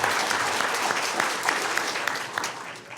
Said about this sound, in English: So I do want to give a round of applause for those individuals that are here.